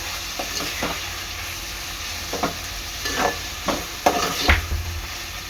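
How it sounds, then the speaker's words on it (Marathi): Ginger garlic paste cooks in a pan for a Koli-style chicken sukka, a soft sizzle broken by repeated scraping stirs and a few clacks of the spoon, close and without speech. "आदा लसूण पेस्ट आता हे चांगलं शिजून घ्यायचं आहे"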